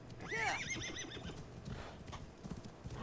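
A horse whinnies loudly with a shrill warbling neigh, followed by clip-clopping hooves and scuffling, in the video game Assassin's Creed Valhalla.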